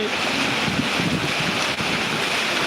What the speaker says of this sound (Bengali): সিলেটে বৃষ্টি চলছে